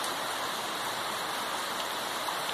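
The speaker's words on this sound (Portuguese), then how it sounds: "Bastante chuva aí, ó." Steady heavy rain at an outdoor home gathering where pamonha is being made, a dense continuous hiss with no breaks, fairly close and loud, no voices.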